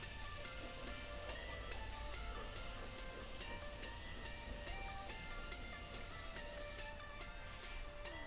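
An Iwata airbrush blowing a steady stream of air to dry paint on a jack-o'-lantern design, a faint continuous hiss with a compressor hum underneath and no talking.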